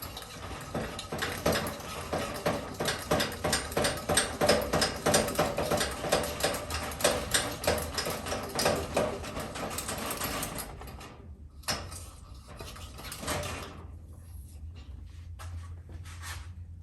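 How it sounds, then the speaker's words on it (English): A Coleman 413H camp stove's fuel tank is pumped by hand with about twenty quick, even mechanical strokes, then the pumping stops and a few quieter clicks and handling noises follow. "Let me pump her up."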